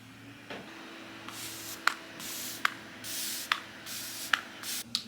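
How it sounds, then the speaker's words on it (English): A Makeup by Mario Surreal Skin soft setting spray is pumped in short misty bursts, about six sprays spaced roughly a second apart. Each bursts close and fairly soft in a quiet room. "I'm using the Makeup by Mario Surrealskin Soft Setting Spray"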